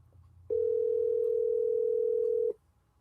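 A phone call being placed on speakerphone gives off one steady, loud electronic ringback tone lasting about two seconds, then cuts off cleanly into quiet.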